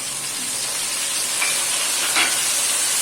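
Tomatoes going into hot oil with cumin for an aloo tori sabzi, giving a steady, close, loud sizzle and hiss that holds evenly throughout with no voices.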